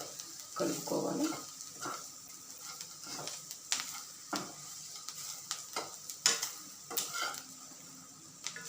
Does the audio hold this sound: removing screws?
no